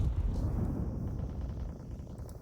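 A grenade explosion in Counter-Strike rumbles low and heavy, a dull booming wash with no distinct sharp crack, fading slightly over a couple of seconds.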